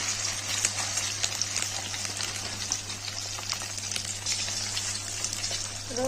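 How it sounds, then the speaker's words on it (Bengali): Chicken pieces sizzle steadily in hot oil for chili chicken, a dense crackling hiss with scattered pops that holds at an even, close level throughout, with no talking. "চিকেনগুলো আমি ভেজে নেব তেলে।"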